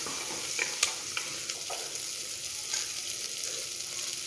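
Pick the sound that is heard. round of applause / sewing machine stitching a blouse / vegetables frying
vegetables frying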